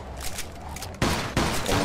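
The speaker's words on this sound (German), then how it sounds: "Pass mit der Schrotflinte auf." Shotgun blasts in the game Mafia II during a police shootout, with two loud, sharp booms close together about a second apart after a quieter stretch of sporadic shots.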